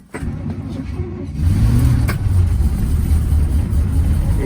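A car engine cranks and then catches in extreme cold of about -52°C, settling into a loud, rough, uneven idle with faint revving, recorded close and with no talking.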